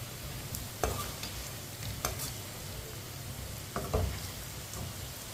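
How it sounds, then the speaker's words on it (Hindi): Lightly browning potato pieces fry in a pan with a steady, close sizzle, broken by a few clinks and scrapes as they are stirred. "आलूओं को मैंने फ्राई कर लिया है हल्का सा, ये देखिए हल्का सा ब्राउन कर लिया है।"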